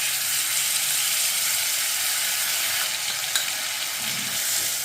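A soaked spice paste with turmeric and salt sizzles and fries for a cauliflower dish, a steady close hiss with faint stirring scrapes and no talking.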